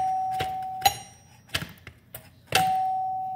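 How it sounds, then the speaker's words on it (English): A buzzing, faulty doorbell rings in bursts. A steady tone sustains at the start and again at the end, broken by several sharp metallic strikes and knocks, close by, with no talking. "it'll hit the top one and then it'll come down and hit this one. That's where you get your ding dong"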